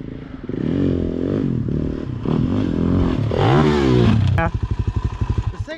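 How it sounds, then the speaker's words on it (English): A Suzuki DR-Z motorcycle ridden hard, its engine revving up and down in loud close sweeps before dropping into a choppy, pulsing sputter near the end. "Bailey's going for it on the DRZ."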